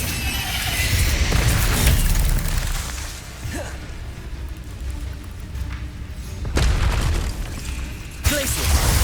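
A fire spell cast in the Hogwarts Legacy video game, a loud whooshing burst with booming impacts and crackle, layered over dense game noise with further bursts around the middle and near the end.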